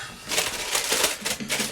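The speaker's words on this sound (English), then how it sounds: "Bit of tin foil." Tin foil crinkled and pressed over a dish of slow-cooked BBQ beef, close, bright rustling crackles in several quick bursts.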